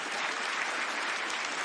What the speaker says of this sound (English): please give the artist a round of applause